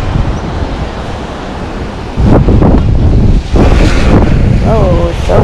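Strong gusts buffet the microphone outdoors, a heavy low roar that surges louder midway with brief breaks, plus a faint voice near the end.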